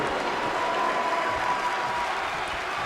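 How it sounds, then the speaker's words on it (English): Crowd in a WWE 2K wrestling video game cheering and applauding, a dense steady roar throughout with a faint whistle-like tone, loud and with no talk over it. "the crowd are behind Kairi and Aimee here. You can hear it"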